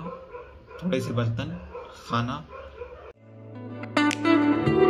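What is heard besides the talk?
dogs barking outside at night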